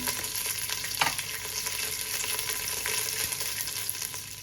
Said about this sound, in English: Giving it another stir to make sure that the oil is coating everything so that it all roasts nicely